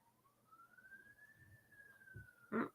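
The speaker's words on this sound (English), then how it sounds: "Sounds like an ambulance" A distant ambulance siren wails in one long, slowly rising and falling tone, faint against quiet surroundings, ending with a brief nearby knock.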